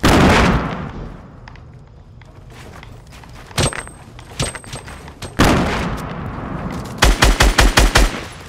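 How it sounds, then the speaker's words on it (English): Gunfire in the Fortnite video game: scattered single shots, then a rapid burst of about eight loud automatic rounds at the end, with footsteps and quieter stretches between. "I'm literally getting shot from two different directions right now."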